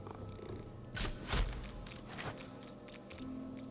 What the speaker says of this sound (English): The cat's getting the hell out of there.